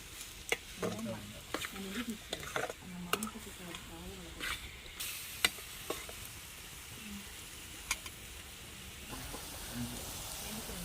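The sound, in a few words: tomato pieces stirred with frying onions in pan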